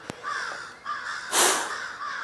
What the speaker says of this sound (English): Crows are still freaking out about this bobcat.